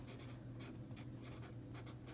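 A pen scratches across paper in a classroom lesson, a series of quick strokes and taps at close range, heard alone without talk.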